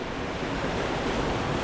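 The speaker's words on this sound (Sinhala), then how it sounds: "මාර පිරිසිදු වතුර තමයි මේ සීත ගඟුල එන්නේ" Clean mountain stream water of the Seetha Gangula on the Nallathanni–Hatton route to Sri Pada rushes steadily, a close, continuous broadband wash of flowing water with no gaps or voices.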